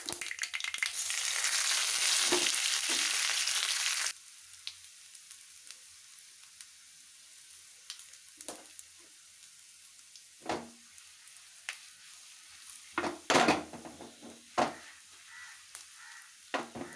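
Drumstick leaves sautéed in a pan: a loud sizzling burst for about four seconds, then quiet frying with scattered stirring scrapes and knocks, no talk.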